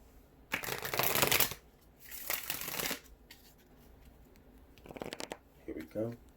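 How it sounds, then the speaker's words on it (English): Tarot cards being shuffled in several bursts of riffling and crinkling, loud and close, with quieter gaps between and a brief voice near the end. "Let's get 2 more shuffles."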